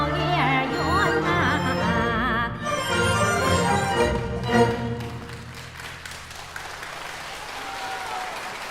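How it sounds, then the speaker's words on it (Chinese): Applause from the audience rises as a Huangmei opera aria closes in a concert hall, continuing at steady strength beneath the last sung notes and accompanying Chinese orchestra, then lingering as a dense, even clatter of hands. "再次热烈掌声献给吴素培老师精彩的演唱"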